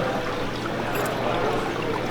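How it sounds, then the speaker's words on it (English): Water pours and flows through an opening canal lock gate as a continuous close rushing and splashing wash, steady in level for the whole moment. "Now the gates will open."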